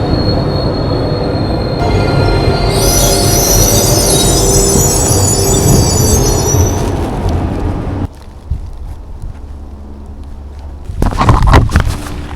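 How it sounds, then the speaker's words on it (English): A train bound for Luxembourg rolls into a station on platform 2 with loud, sustained high-pitched wheel squeal over rumbling, then slows and quiets before a final burst of clanking. "entrée en gare du train vers Luxembourg"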